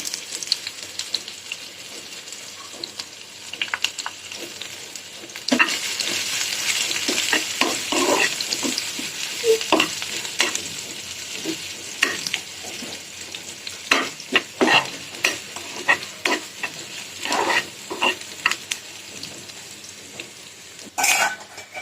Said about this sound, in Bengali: দিয়ে দিচ্ছি পেঁয়াজ। পেঁয়াজটা ভাজবো না বেশি।